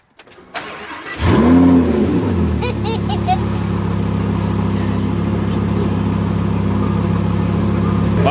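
A Lamborghini engine cranks and fires up, then settles into a loud, steady idle with a deep rumble, close by and continuous after the start, with a brief rev near the catch.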